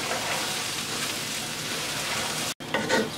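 Rice grains fry with coriander powder, salt and spices in a lightly oiled pot, giving a steady dense sizzle throughout, broken by a brief silent gap near the end before the crackle resumes.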